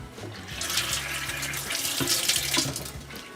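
Tap water runs steadily into a kitchen sink while hands are washed, a continuous close splashing rush with slight shifts as the stream is interrupted by the hands.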